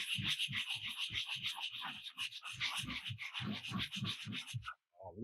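Sandpaper rubbed by hand in circular motion over a piece of cast concrete, a close, steady run of rhythmic scratchy strokes that stops abruptly near the end.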